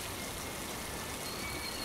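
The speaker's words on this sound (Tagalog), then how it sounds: "bigla rin bumuhos ang malakas na ulan." Heavy rain pouring steadily as a horror-story sound effect, a dense, even wash of noise with no pauses, no voices and no other sounds.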